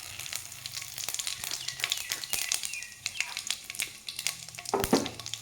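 Whole cumin seeds and bay leaf crackle and sizzle in hot oil in a pan, an uneven spattering hiss with sharp pops, close up and without talk.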